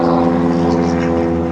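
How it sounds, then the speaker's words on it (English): A training airplane flying overhead, heard as a steady, loud propeller drone with a strong harmonic hum that holds level throughout, and no talking. "It's that Emily Riddle airplane up in the air above us"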